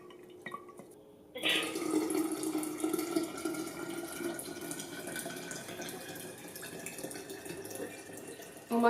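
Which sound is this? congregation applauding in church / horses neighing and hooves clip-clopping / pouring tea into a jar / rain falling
pouring tea into a jar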